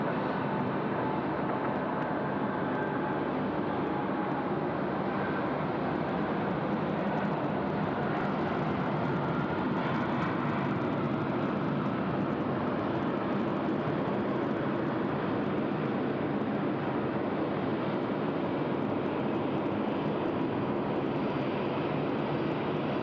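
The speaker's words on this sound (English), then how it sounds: "UPS 37 now rolling, 3-4 left off to Seoul." A UPS cargo plane, flight 37 bound for Seoul, takes off from runway 34 left at Sydney Airport with a loud, steady jet roar that holds unbroken throughout, with no voices.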